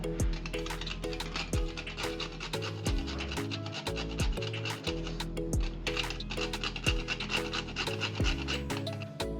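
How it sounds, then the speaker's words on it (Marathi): Nutmeg scraped across a grater over a dried sweet semolina filling for sanja poli, a rapid run of close rasping strokes with rhythmic ticks throughout, no talk. "यामध्ये थोडंसं जायफळ किसून घालूयात"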